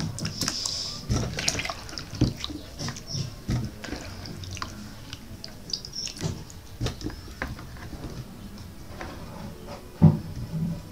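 Diced yam pieces being washed by hand in a pot of water, giving close, irregular splashing, dripping and clinking with occasional sharper knocks, no talking.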